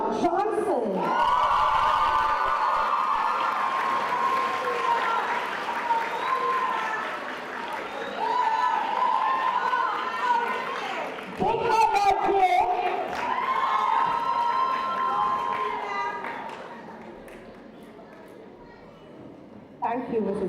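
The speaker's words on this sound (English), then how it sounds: "Give me a round of applause." An audience at a high school valedictory service applauds and cheers for about twenty seconds, a loud sustained wash of clapping with whoops and shouting from the crowd that swells, fades and briefly surges again.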